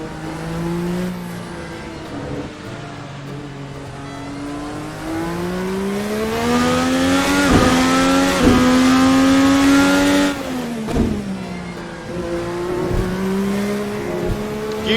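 Sim-racing 2012 Formula NA Indy car engine on cold tyres, rising through gears with sharp shift cuts and deep lift-off drops, loud and continuous throughout with no voices.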